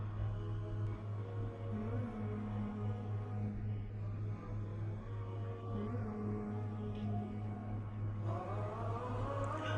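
A sewing machine stitches a V shape into a child's party kurti, its motor giving a faint, steady humming whir that runs continuously with slight variations.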